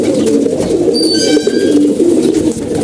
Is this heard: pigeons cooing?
yes